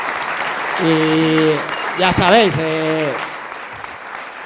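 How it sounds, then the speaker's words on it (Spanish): An audience claps at a climbing event in Barcelona with Adam Ondra and Patxi Usobiaga, a dense wash of applause filling the room while a presenter speaks over it in Spanish. "Os voy a pedir otro aplauso más."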